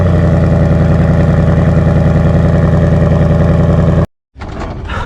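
A 2020 Ford Mustang GT V8 with a completely stock exhaust runs loud and close with a deep, steady, rumbling idle, then cuts off abruptly before a brief burst of further noise.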